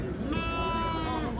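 Ewes with their lambs bleat at a livestock market in Ganja, one drawn-out bleat standing out close by over a busy crowd murmur, with people talking nearby.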